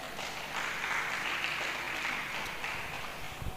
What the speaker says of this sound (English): Can we clap for those who said an elephant can dance?